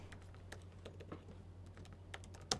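A name is typed on a computer keyboard in a quiet room, with a few quick, light, irregular keystrokes and a louder tap at the end.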